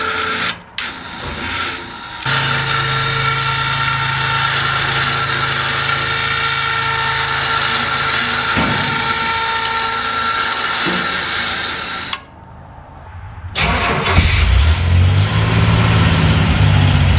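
A Land Rover Lightweight engine idles steadily with a smooth, continuous hum and whine, interrupted by a couple of brief dropouts before a deeper rumble rises near the end.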